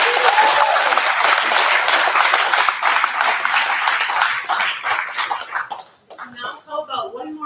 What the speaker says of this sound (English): how about one more round of applause for all these great people